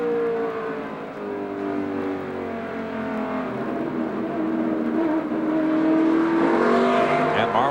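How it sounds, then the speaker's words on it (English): NASCAR stock cars racing at the 1995 New Hampshire race at Loudon, with a sustained loud engine roar from several cars that builds near the end as they pass, under a commentator's talk. "And Marlin was one of 4 cars that went by Craven and Strickland."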